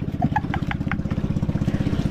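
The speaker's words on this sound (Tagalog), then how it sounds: "yung makina ni Kuya Og" A boat engine chugs in a fast, steady pulse, close and loud, running alone without voices.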